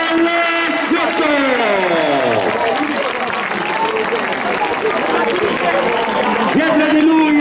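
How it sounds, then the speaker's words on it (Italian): A crowd applauds a cyclist, Manuel Ghiotto, as he arrives at the finish of a 10000 m points race final. Steady clapping runs under loud, excited commentary from an announcer. "accogliamolo con un applauso, Manuel Ghiotto!"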